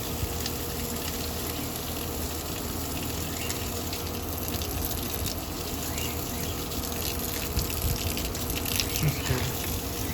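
Fresh water gushes steadily into a tortoise soaking tub, a continuous close splashing rush lasting the whole stretch without pause or speech.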